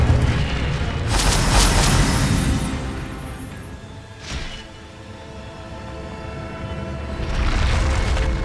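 An Incendio fire spell cast in Hogwarts Legacy: a loud, rumbling whoosh of flame with booming bursts near the start and end and a brief flare in the middle, sustained over several seconds.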